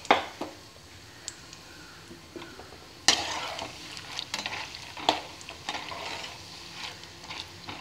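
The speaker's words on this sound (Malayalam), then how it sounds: "ഇനി നമുക്ക് കപ്പലണ്ടി വറുത്ത് കോരാം" Peanuts frying in hot oil for a sweet beaten-rice mixture, a close bubbling sizzle broken by sharp scrapes and clinks of a stirring utensil against the pan at irregular intervals.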